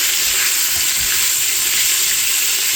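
Beef frying in a pan for a traditional Albanian veal tasqebap, a loud continuous hiss and sizzle with soft scraping as the meat is stirred, steady throughout with no talk.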